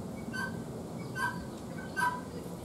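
Turkeys and chickens in a small petting zoo give a few short calls and gobbles at a moderate distance over steady outdoor background noise.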